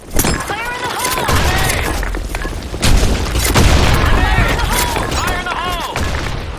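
Explosive booms from grenades in Counter-Strike, on the Sand Storm II map, mixed with gunfire bursts and ringing, fairly loud and continuous throughout, with a voice heard among the blasts.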